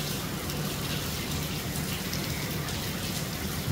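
Steady rain falls throughout, a dense and continuous close patter of drops on a surface with no voices or other sounds.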